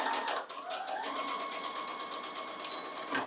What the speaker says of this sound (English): I'm safe to take my pin out, do some back tacking, and sew down to the point of the dart